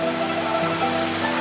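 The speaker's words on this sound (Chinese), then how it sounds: "下雨了，我太兴奋了，我终于见到下雨了。" Rain pours down in a steady, dense patter on hard surfaces, a close, continuous wash of drops with no voices.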